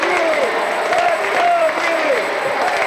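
Indoor soccer crowd at Wing Stadium during a Kalamazoo Kangaroos versus Milwaukee Wave match, a steady roar of cheering and applause with shouting voices throughout, filling the arena continuously.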